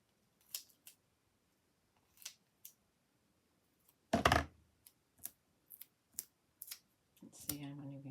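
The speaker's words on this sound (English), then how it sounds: "I think I'll need to cut it into little tiny pieces, which will then bung up my scissors" Scissors snipping paper into small pieces for a vintage paraphernalia papercraft project, a sparse series of short, crisp close-up cuts with pauses between them, ending with a person speaking.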